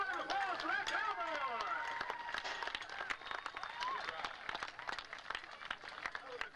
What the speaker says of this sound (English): Ladies and gentlemen, how about a big round of applause for that cowboy?